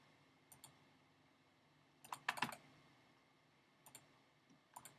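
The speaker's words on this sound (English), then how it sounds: "You can probably hear the clicking noises." Computer mouse or keyboard clicks during a gunning tutorial, faint and close, with a few scattered single clicks and a quick cluster of rapid clicks in the middle.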